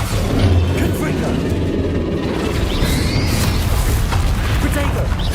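Bombarda and Confringo blasts from Hogwarts Legacy, heavy booms and bursts over a continuous low rumble of game audio.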